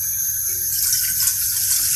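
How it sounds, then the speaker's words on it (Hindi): A glass of water is poured into a cooking pot, a steady splashing pour that swells into a bright gushing stream, close and alone. "उसमें 1 गिलास आप पानी का डालें।"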